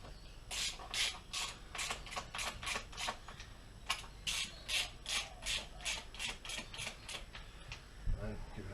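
A hand ratchet snugging down the rocker cover bolts on an AE101 Levin, giving rapid bursts of clicking pawl ticks in repeated strokes, close and fairly quiet, with a brief soft thump near the end.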